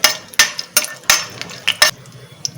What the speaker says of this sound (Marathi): दालचिनी, जायत्री, लवंग, 4 वेलची हिरवी आणि 1 मसाला वेलची. आता हे परतून घ्यायचं.